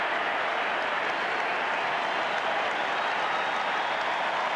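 Crowd applause rolls steadily through a packed stadium at a 1997 Australian football match between Carlton and the Western Bulldogs, a dense, even wash of clapping and cheering that holds at a constant level throughout.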